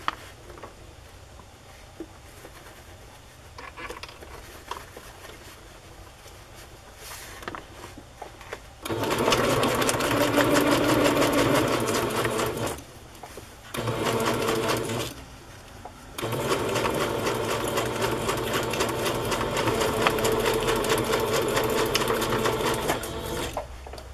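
A sewing machine ruffles fabric in two loud, steady whirring runs with a short pause between them, after quieter background room sound.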